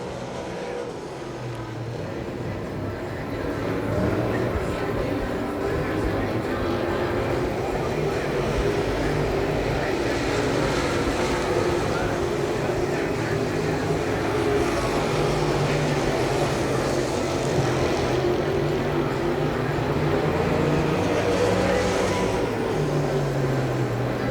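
Open-wheel modified race cars practice at Dixie Speedway, a continuous loud droning roar of engines circling the track with rising and falling pitch, while a commentator talks over it.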